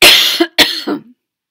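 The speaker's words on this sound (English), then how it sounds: "That same cough I had last video." A person coughs loudly and close up, a short burst of two or three harsh coughs that trail off into a brief throaty rasp.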